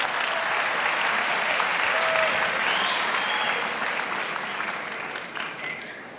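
A television talent-show studio audience votes by applauding in a long, steady wash of clapping that stays loud, then thins slightly toward the end, with faint voices mixed in.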